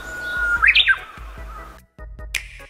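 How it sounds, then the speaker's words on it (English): Chirping bird call like a Japanese blue warbler, used as the Wii message notification: a bright rising-falling trill over a soft low hum, then a short pause and a final high chirp. "The Wii's disk drive is synced to the Japanese Blue Warbler's call whenever you receive a message."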